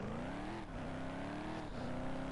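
A video game car engine drones steadily at moderate revs, its tone dipping and rising slightly as the throttle shifts, continuous and fairly quiet with no voices.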